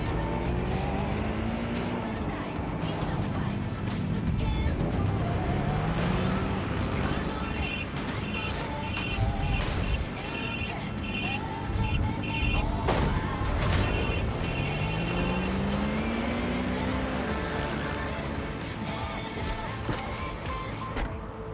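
A car rolls along on auto drive in Watch Dogs: Legion, with a steady engine drone, passing traffic whooshes and occasional knocks and thumps, continuous throughout and mixed with game voices and talking.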